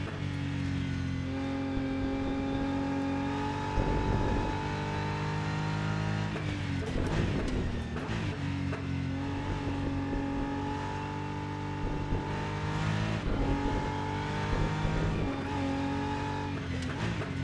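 Race car engine in the Rennsport sim, the Praga R1, held under smooth, gentle throttle with a steady harmonic drone that dips and climbs through the revs, continuous and fairly loud.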